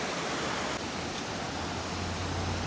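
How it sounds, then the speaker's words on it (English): Waterfall at Dyserth in North Wales, a constant dense roar of falling water, broad and unbroken throughout, close and steady with no voices. "you go and check out the waterfall"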